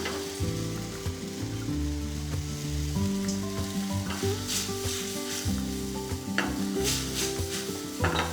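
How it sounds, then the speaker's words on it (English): Poaching liquor deglazes a hot pan while kangaroo is cooked, giving a steady loud sizzle and bubbling hiss with occasional stirring scrapes and a low background hum throughout. "we're just going to add it in. And that's going to deglaze the pan"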